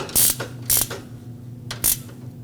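A ratchet tightens radiator mounting bolts on a Nissan Frontier with a 2.5L four-cylinder, giving three short, close bursts of clicking, each separated by a brief pause.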